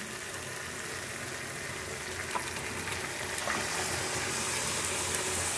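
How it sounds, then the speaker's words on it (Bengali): Mutton drops into frying masala and oil, and a steady hiss of sizzling swells slightly over several seconds, close and continuous, with a few faint clicks. "এবার মাটনটা দিয়ে দিচ্ছি।"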